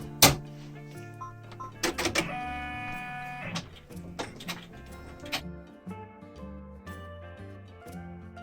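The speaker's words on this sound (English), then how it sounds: "we're going to put it back in the machine and let it top stitch that down" An embroidery machine top stitching the upper piece of an in-the-hoop lined zipper bag, whirring with stepped, shifting motor tones and quick rapid needle chatter, close and steady throughout.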